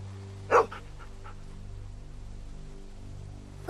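Dog barking in The Walking Dead Season 2 video game: one short, fairly loud bark near the start, followed by a low steady hum of game background sound.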